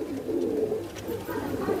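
A pigeon coos softly and continuously, a low murmuring call that carries on steadily throughout, close by and fairly faint, with no talking over it.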